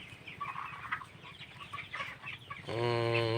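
Broiler chickens in a poultry shed, about twenty-two days old, give a steady murmur of clucks and chatter, close and continuous, swelling into a louder sustained vocal call near the end.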